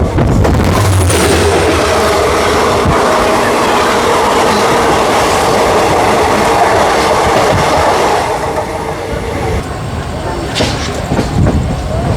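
A Sindhanur to Hubli passenger train, number 56928, runs along the line with a loud, continuous close-up rumble and rhythmic clickety-clack of wheels over rail joints throughout.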